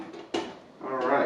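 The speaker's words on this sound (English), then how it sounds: "pop that in to the crock pot, put the lid on" A lid set onto a crock pot gives two short, near clunks of ceramic or glass, one sharp and one duller, with a brief scrape in a quiet kitchen.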